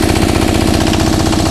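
A diesel engine powering a 22-foot pole Christmas tree runs loud and close, a steady pulsing knock that is dense and unbroken throughout, with no talk over it.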